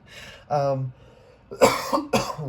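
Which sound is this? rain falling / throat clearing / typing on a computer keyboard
throat clearing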